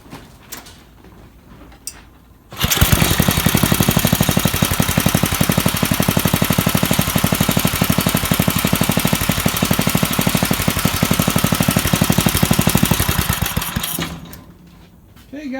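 A Briggs & Stratton 4 horsepower small engine, freshly fitted with a new air filter, starts after a couple of knocks and runs at a steady, loud, rapid putter for about eleven seconds before shutting off and winding down.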